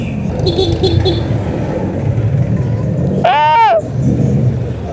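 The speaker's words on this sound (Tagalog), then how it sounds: "Susundan ko na lang itong mga kotse, mga sasakyan." Cars in nighttime road traffic, a continuous engine and road rumble heard from inside a moving vehicle, with a rising and falling whine partway through and a person talking over it.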